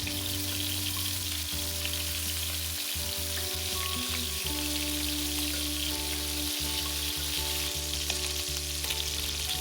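Lamb chops sear in a pan over high heat, giving a loud, steady sizzle with a constant low hum underneath, continuing without pause or speech.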